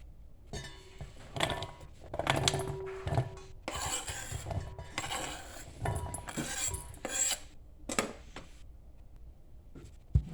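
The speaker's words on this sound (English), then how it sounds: "Let's get an onion chopped up." A sweet onion is chopped on a board in a home kitchen, making irregular bursts of close, dry cutting and scraping with short gaps between strokes.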